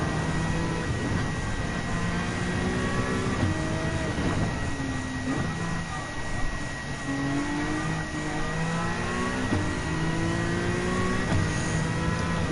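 A race car in Gran Turismo 7 accelerates through a corner, its engine note climbing in repeated rising sweeps between gear changes, loud and steady throughout.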